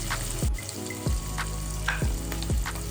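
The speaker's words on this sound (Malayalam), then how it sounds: "ഇപ്പം കല്ലുമ്മക്കായ ഇതിലിട്ടിട്ട് നമുക്ക് ഒന്ന് ഷാലോ ഫ്രൈ ചെയ്തെടുക്കാൻ പറ്റും" Mussels shallow-fry in a pan with a crackling sizzle, broken by four or five sharp thuds or knocks at regular intervals, close and fairly loud, with no voices.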